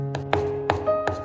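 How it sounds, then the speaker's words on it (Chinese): Kitchen knife mincing garlic on a cutting board: four crisp, evenly spaced chops ring out close and clear over a faint steady hum. "再把它剁成蒜末"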